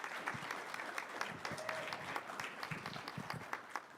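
Audience at a conference breakout session gives a final round of applause to two speakers, steady clapping at a faint, distant level that fades slightly toward the end.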